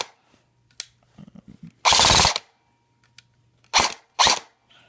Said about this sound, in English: proof that it works without BBs